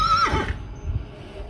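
A horse on a ranch gives a short, clear, high whinny that drops in pitch. A few soft hoof thuds and faint outdoor rustle follow.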